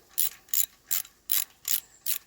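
A ratchet wrench loosening bolts on the differential of a 1991 Ford F-150: six quick bursts of clicking, evenly spaced and close up, with short pauses between strokes and no talk.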